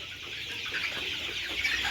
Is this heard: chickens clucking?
yes